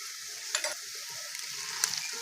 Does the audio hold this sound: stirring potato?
yes